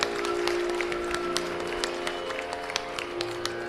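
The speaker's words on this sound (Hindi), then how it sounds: "जोरदार तालियों से आइए सहभागी बने" Steady applause fills an indoor hall at the opening ceremony of a new government school in Delhi, dense overlapping claps from a sizeable audience held at an even level for several seconds with a faint voice underneath.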